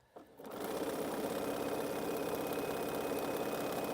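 A sewing machine stitches a quilt border, starting after a brief pause and then running in a fast, steady mechanical whir with rapid needle clatter, close and continuous.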